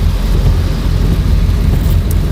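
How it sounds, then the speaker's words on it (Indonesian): Heavy rain pounds a car driving on a road through Pemanukan toward Cikampek, a loud, dense, unbroken roar of downpour mixed with low road rumble. "Ini kebetulan hujan deras banget di sini."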